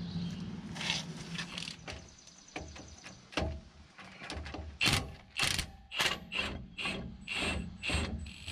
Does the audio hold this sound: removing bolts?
yes